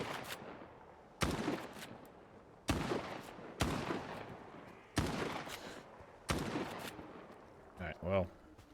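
Gunfire in the video game STALKER 2: six sharp, loud shots spaced about a second apart over quiet ambience, followed by a short voiced sound near the end.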